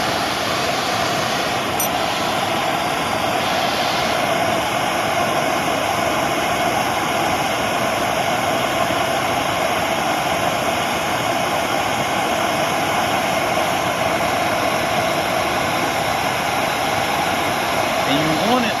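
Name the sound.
MAP gas torch burning at full flame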